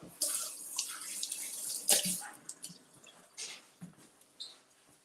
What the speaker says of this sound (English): let's rinse this out